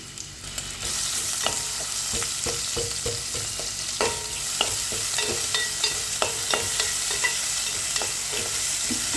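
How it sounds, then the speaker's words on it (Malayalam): Onions sautéing in hot coconut oil for a potato curry: a steady, close frying hiss fills the whole stretch, punctuated by irregular clicks and scrapes of a spoon stirring the pan. "ഉള്ളി ഇട്ട് നന്നായി വഴറ്റി കൊടുക്കാം"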